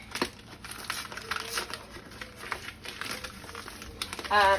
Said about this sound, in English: open up your flour.